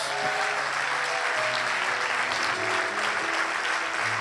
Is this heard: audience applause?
yes